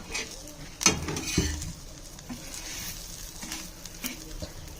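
Fish from a river frying in a pan, a steady close sizzle with occasional stirring clatter and a sharp utensil knock near the start, no voices.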